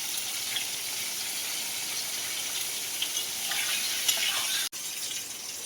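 Pointed gourd pieces frying with a little turmeric in a pan make a continuous, even hiss, fairly close and unbroken apart from a brief dip.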